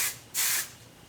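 Two short hissing bursts of hairspray from an aerosol can, close and steady, the second slightly longer, with no voices.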